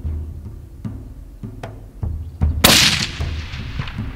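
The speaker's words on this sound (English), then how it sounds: "so Henrik gets settled and makes the shot count" A single loud rifle shot rings out during a South African plains-game ram hunt, a sharp blast near the middle followed by a decaying rumble, preceded by quieter rhythmic thumps, with no talk.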